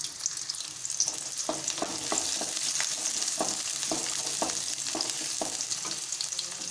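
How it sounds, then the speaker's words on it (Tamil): Shallots sauté in sesame oil in a kadai, a constant close sizzle punctuated by a regular run of scraping stirs about twice a second, with no voices. "சின்ன வெங்காயம் நல்லா வதங்கணும்"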